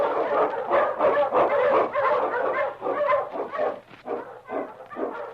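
A Malamute sled dog barks and yips in quick, overlapping bursts, loud and close, with a few whimpers mixed in as the barking continues throughout.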